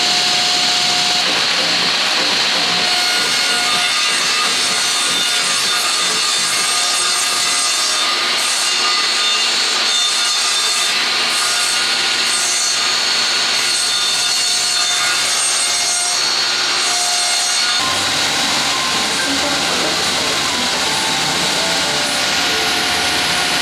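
Power tool cutting wooden staves for a barrel sauna, a loud steady whine with rasping wood noise running for about seventeen seconds before dropping to a lower, rougher tone near the end, no talking.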